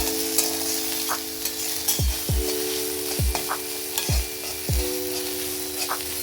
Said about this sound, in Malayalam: ഇതിലേക്ക് സവോള സ്ലൈസ് ചെയ്തത് ചേർത്ത് കൊടുക്കാം. കൂടെ തന്നെ ഇതിലേക്ക് കറിവേപ്പിലയും ചേർത്ത് കൊടുത്ത് നന്നായിട്ടൊരു ഗോൾഡൻ കളർ ആകുന്നത് വരെ ഒന്ന് വഴറ്റിയെടുക്കാം.